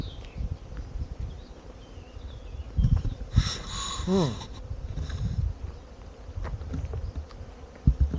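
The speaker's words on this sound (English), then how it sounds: "There's a bee's nest here." Bees buzz around a nest outdoors in summer, with a brief louder swell of droning wings in the middle over faint ambient rustle and a few soft knocks.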